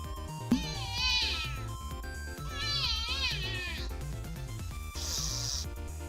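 Cat meows triggered as a stream alert, three drawn-out mewing calls at a steady spacing, playing over background music.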